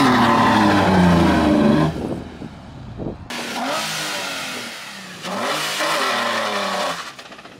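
A Toyota Supra engine revs hard on a test drive, loud and close, surging, dropping off briefly, then climbing again through repeated high-revving pulls.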